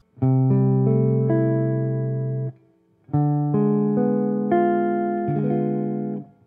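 A guitar strums a diminished chord with its notes arpeggiated upward, letting it ring, then plays a second similar chord, clear and close with no voices.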